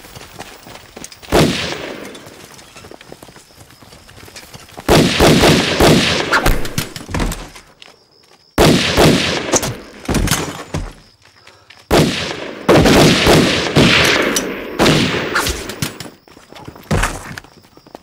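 Bursts of rifle and machine-gun fire in a war film with Japanese soldiers, coming in several loud volleys separated by short pauses, with sharp impacts throughout.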